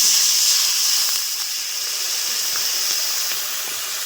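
Water splashes into a hot pan of katla fish with turmeric and salt, giving a steady, loud hissing sizzle that fades slightly over a few seconds.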